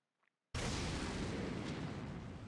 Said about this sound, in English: the cannon fire became more bombastic in the background